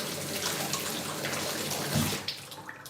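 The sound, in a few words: rinsing with running water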